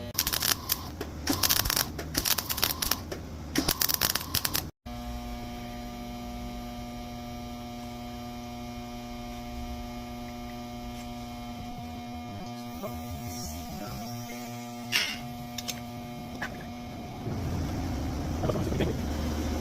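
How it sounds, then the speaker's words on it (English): Welding a nut onto a broken bolt during Toyota bolt extraction: a steady electrical hum with a constant buzz runs for most of the stretch, preceded by a burst of loud crackling and followed by scattered clanks and crackle near the end. "Now let's weld this nut on here."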